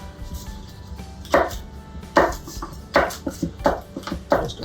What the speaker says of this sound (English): I'm going to just slice up some butter here and put it on